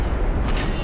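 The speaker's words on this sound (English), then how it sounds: "Looks like another detonation there." A low rumbling detonation aboard a ship under attack in the submarine game Silent Hunter 3, a dense, heavy roar filling the whole short moment without a clear start or finish.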